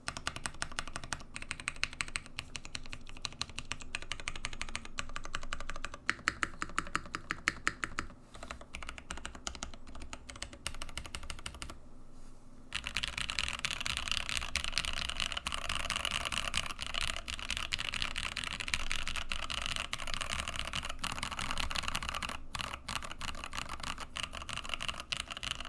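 Mechanical key switches clatter steadily on a rebuilt Mode Sonnet keyboard, a dense run of close, crisp keystrokes with a brief pause midway before the typing resumes just as fast.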